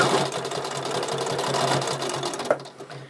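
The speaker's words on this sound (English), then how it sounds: "And then we're just going to sew to the other corner." A sewing machine stitches quilt binding toward the corner, its steady rapid mechanical whir running close and continuous for the whole stretch, with a slight knock near the end.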